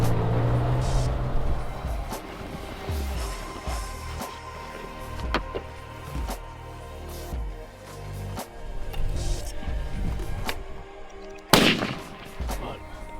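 A muzzleloader rifle fires once, a sharp loud report late in the clip, during late muzzleloader season in Iowa, with wind and some talk beforehand.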